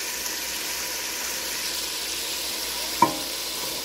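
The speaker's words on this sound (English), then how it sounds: "Got the sizzle going, as you can see." Bacon sizzles steadily in a hot pan for collard greens, a constant close hiss with crackle, one brief sharper pop near the end.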